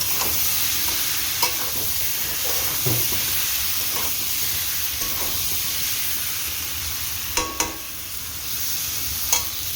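Fish and potatoes being stir-fried in a pan at home: continuous close sizzling and hissing, with occasional scrapes and clinks of a spatula stirring, steady and fairly loud, no speech.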